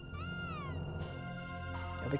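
A cat meows in the video game Chrono Trigger, one drawn-out, bending meow followed by a second, shorter mew, heard close and clear over a low background tone.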